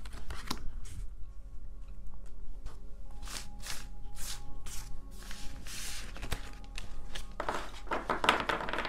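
Tarot cards being shuffled up close, a series of quick riffling bursts and soft slaps in an irregular rhythm, with a faster flurry near the end.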